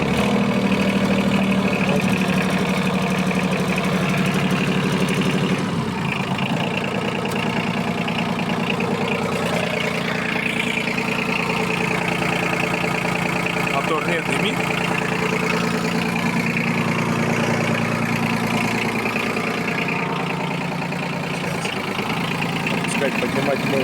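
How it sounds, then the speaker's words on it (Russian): A Yanmar F155 15 hp Japanese diesel mini tractor with a rotary tiller idles with a steady, close chugging rumble for the whole stretch, while someone talks over it. "Заводим трактор."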